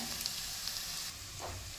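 Tadka, a spiced tempering, fries in a pan with a steady broadband sizzle that carries on alone throughout, with no one talking.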